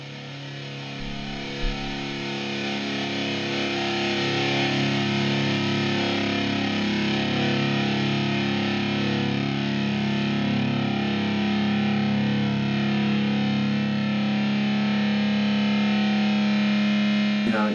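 Electric guitar through a Big Muff fuzz pedal, a thick, heavily distorted sustained chord droning loud and steady for many seconds with long sustain, played alone with no voice.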